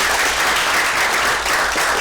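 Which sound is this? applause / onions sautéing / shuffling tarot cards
applause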